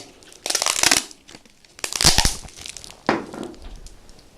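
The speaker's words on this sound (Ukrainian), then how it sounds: "Ще один спосіб скотчем. Наматуємо його на руку стороною склеєм." Sticky tape unrolls and is wound around a gloved hand in three loud crinkling bursts, close to the microphone, as part of collecting spilled mercury.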